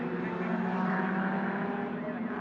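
Race cars at Winton circuit in the Shannons Nationals, a continuous droning engine roar holding at a fairly steady pitch, moderately distant, with no voices.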